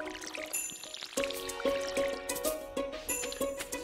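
Watering crops with a watering can in the Stardew Valley farming game, a series of short bright pouring splashes repeating in a steady rhythm over soft background game music.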